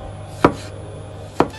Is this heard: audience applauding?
no